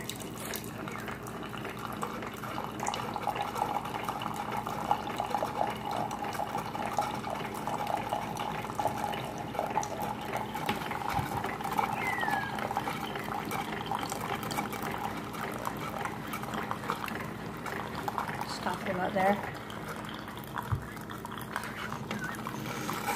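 A home coffee maker brews with a continuous low gurgling and bubbling hum. Small splashes and clicks break through it, and a voice talks briefly in the background.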